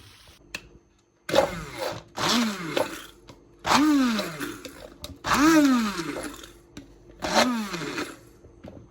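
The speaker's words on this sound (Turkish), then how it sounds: "Şöyle blenderdan geçiriyorum." A kitchen blender purees a baby pudding of fig, apple and hazelnut in five loud, whining bursts, each rising and falling in pitch, with short quiet gaps between them.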